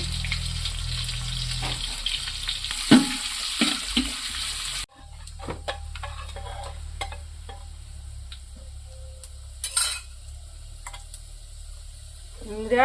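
Chopped onion and dried chilli hitting hot oil in a pot, a hissing sizzle over the first seconds, then quieter frying with scattered stirring clinks and taps.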